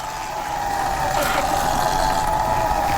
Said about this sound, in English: You hear those cicadas?